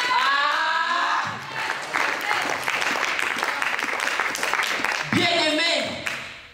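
A church congregation bursts into loud applause and cheering, sustained clapping with voices calling out, while a preacher's voice rises over it at the start and again near the end.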